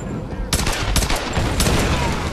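Gunfire in the Tomb Raider video game: several sharp broadband shots in quick bursts after a brief quiet start, loud and close, with a bit of low speech underneath.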